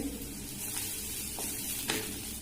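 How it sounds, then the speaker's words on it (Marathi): Onion, garlic and asafoetida sizzle in a hot pan for a bitter gourd dish, giving a soft, even hiss with a few faint stirring scrapes, quiet and close, with no voices. "भाजीसाठी एक मध्यम आकाराचा कांदा लसूण हिंग टाकते"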